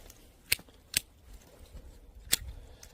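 Pruning shears snip through branches of a Korean cherry (앵두) tree: three crisp, sharp cuts, two close together and a third after a pause, close by over quiet outdoor background.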